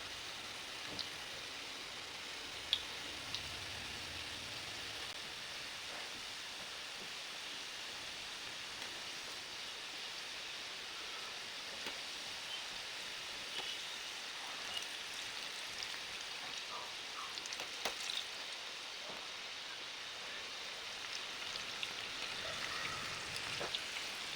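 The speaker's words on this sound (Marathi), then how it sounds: "तेल पण छान असं तापलेलं आहे आपलं छान असे खरपूस रंगावरती तळून घ्यायचे मोदक" Modaks deep-frying in hot oil, a steady soft bubbling hiss that runs continuously at low, even loudness with faint crackles scattered through it.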